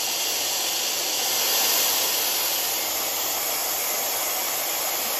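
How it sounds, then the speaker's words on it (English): A Tymo Airhype hair dryer runs at its highest fan speed, giving a loud, steady, close airy roar and hiss that swells slightly early on and holds constant throughout. "Let me show you what the highest speed looks like."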